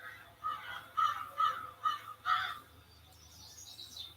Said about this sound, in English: Crows, you know, defend their nests with numbers.